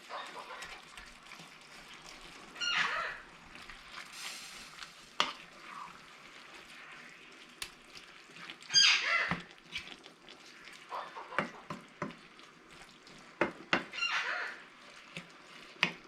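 Shepherd's pie filling with mushroom soup is stirred in a pot, giving a few soft scraping, sizzling bursts spread over a quiet stretch, with faint clinks between them.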